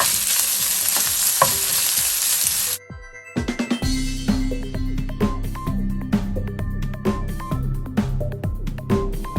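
Onions sizzle and fry in an oil-filled pan while being sautéed for mushroom cutlets, a loud hissing that drops out briefly, then returns with spoon scrapes and clinks against the pan.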